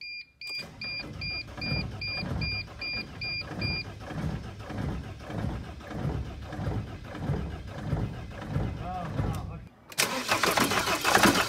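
A 2002 Sprinter van diesel engine cranks over and over during a compression test, a steady rhythmic churning with regular pulses, first under a faint beeping chime, then breaking into a louder roar at the end.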